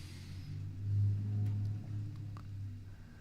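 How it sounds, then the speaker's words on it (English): A noisy truck or similar heavy vehicle rumbles past outside, a low droning engine that swells and fades over a few seconds, fairly faint and without any talk. "Really quite a noisy truck."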